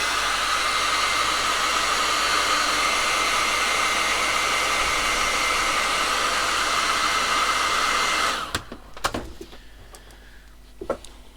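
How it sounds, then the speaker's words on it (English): A hairdryer blows with a loud, steady whoosh for about eight seconds, then switches off, leaving faint clicks and handling noises. "I'm just going to give him a quick blast with the hairdryer"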